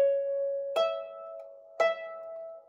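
Harp phrase climbing up from F: a sustained plucked tone rings, then two further plucked notes strike clearly about a second apart, each bright attack fading into a shimmering ring, close and alone.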